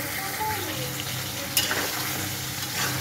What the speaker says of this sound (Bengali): তো এখন গরুর মাংস রান্না করতেছি।